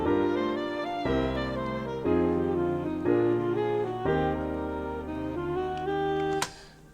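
Notation-software playback of a jazz saxophone section in a drop-2 voicing, with the baritone sax dropped an octave, plays a sequence of sustained block chords that change about once a second before cutting off abruptly.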